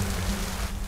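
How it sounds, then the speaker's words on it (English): Cartoon freezing rain falls as a steady, even hiss of drops spread across the whole sound, brief and unbroken with no voices. "Ah, but that rain is clearly freezing when it hits the cold ground."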